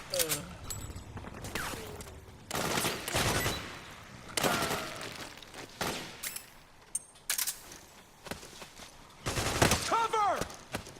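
Gunfire crackles through a battle in the video game Metal Gear Solid 4, with repeated bursts and volleys at irregular intervals, some near and loud, mixed with shouting voices.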